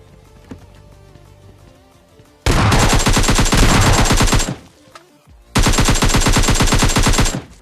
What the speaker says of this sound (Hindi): लेकिन तभी हमारे ऊपर होती है खतरनाक फायरिंग।